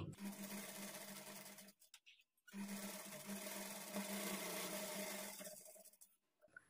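A sewing machine stitches a high-neck blouse with a steady, close whirring hum. It runs continuously, stops briefly for about a second, then runs again and winds down near the end.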